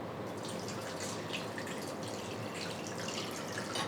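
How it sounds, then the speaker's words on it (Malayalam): Water poured into a pan of chicken masala gives a soft, continuous trickle with light splashing, faint and close, with no voices. "ഇനി ഇതിലോട്ട് ആവശ്യത്തിനുള്ള വെള്ളം കൂടി ഒഴിച്ചു കൊടുക്കണം"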